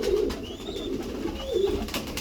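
Pigeons cooing in a loft kept for racing competition, soft repeated coos close by with a brief faint whistle-like call, no talking.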